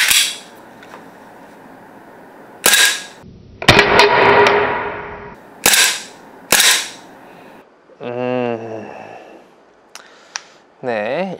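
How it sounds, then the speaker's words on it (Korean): An RST TTI Glock 34 Gen3 gas blowback airsoft pistol fires on white puff dino gas with a cold magazine: about five sharp, loud close-range pops with slide clacks, separated by pauses, and brief tonal handling noises toward the end. "RST 타란 34 다시 한번 격발해 보도록 하겠습니다. 동일하게 화이트 퍼프디노 가스이고요."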